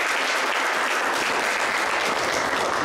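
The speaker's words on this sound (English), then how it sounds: "Let's give Dr. Thompson another round of applause." Steady, dense applause from a seated audience at an award ceremony and seminar dinner, continuous and even throughout with no talk over it.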